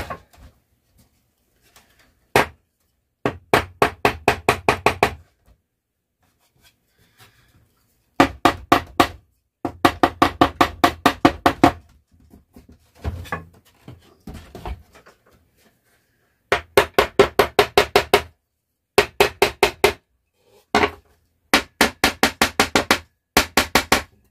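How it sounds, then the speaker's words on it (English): Rapid bursts of hammer blows ring out repeatedly, clusters of quick sharp strikes separated by short pauses, close and loud. "we'll get the hammer and we'll give him a couple smacks"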